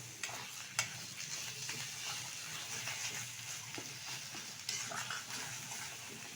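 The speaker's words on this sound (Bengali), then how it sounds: "সবগুলো উপকরণ এখন ডালের সাথে আমি ভালোভাবে তেলের সাথে মিশিয়ে নেব।" Spiced lentil filling for radhaballavi being stirred with oil in a pan, a steady low sizzle with soft scraping strokes and a couple of sharper knocks from the spoon, heard alone at moderate level.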